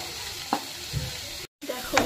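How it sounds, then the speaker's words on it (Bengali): Leafy greens fry down in a pan with a steady sizzle, punctuated by a few stirring scrapes and clinks. The sound drops out briefly midway, then resumes close and moderately loud. "কতটা জল ছিল আর কতটা এখন ভাজা ভাজা হয়ে কত অল্প হয়ে গেছে"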